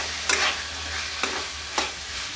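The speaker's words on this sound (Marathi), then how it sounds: "आता त्याच्यामध्ये 1 वाटी मटार घालूयात आणि हे पुन्हा एकदा थोडं परतवून घेऊयात" Chopped onion and a cup of green peas sautéed in a pan, a continuous loud sizzle punctuated by three quick spatula scrapes spread across the moment.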